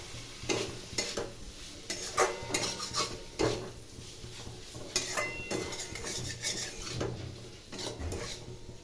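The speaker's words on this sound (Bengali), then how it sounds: "মশলার সঙ্গে সামান্য নাড়াচাড়া করে" Fried potato, pumpkin and prawn being stirred into spice paste in a pan, with irregular scraping and clinking of a spoon against metal over a faint sizzle, close and fairly quiet.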